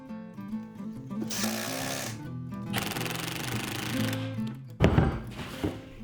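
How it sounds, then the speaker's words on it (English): A power drill pre-drills and countersinks screw holes in a homemade ATV toolbox, giving three whirring bursts of a second or so each, the last sharper, over steady background music. "I'll pre-drill and countersink first, being sure not to pre-drill too deep"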